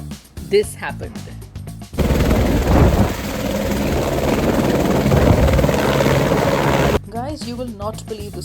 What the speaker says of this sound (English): You're soaring above the Gold Coast in a chopper